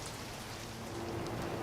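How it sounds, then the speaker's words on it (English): Cold morning rain falling steadily, a soft, even patter and hiss at low volume with no voices over it. "it's cold, it's rainy"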